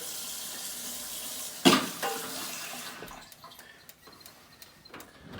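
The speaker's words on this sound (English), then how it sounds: "So I'm just gonna add a little bit of extra water." Water poured from a tap or jug into a pan of seasoned beef for Mexican beef with sweet potatoes, a sudden splash followed by a quieter trickling and sizzling wash that fades away, with no talk.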